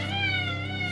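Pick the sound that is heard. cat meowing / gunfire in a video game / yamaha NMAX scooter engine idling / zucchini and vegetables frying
cat meowing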